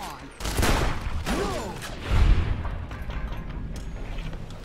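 Gunfire in the video game Fallout New Vegas, several sharp shots and booms scattered across the clip amid busy game noise, with a voice talking faintly in between.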